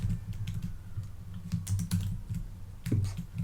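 Bursts of keystrokes tapped out on a computer keyboard, a quick irregular clatter of clicks with short pauses, close and moderately loud with no voices.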